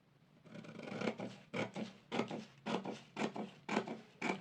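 Scissors cut through shirt fabric, both front and back layers together, in a quiet, close series of about eight rhythmic rasping snips with no talk.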